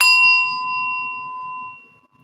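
A small singing bowl struck once, giving a clear sustained metallic tone that rings out steadily for about two seconds before fading, close and fairly loud with no talking.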